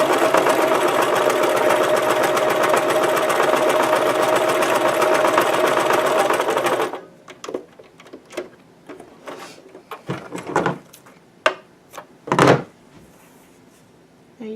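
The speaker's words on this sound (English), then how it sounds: "just going to go quarter inch in and just sew with regular tension and regular seam line." A sewing machine stay stitches a quarter-inch seam at regular tension, running in a steady, fast, close hum for about seven seconds. It then stops, leaving faint handling clicks and rustles.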